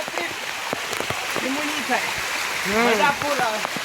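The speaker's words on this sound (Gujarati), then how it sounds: "ફૂલ વરસાદ છે." Heavy monsoon rain pours steadily over the Girnar hills near Junagadh, a dense, even hiss that continues throughout while voices talk over it.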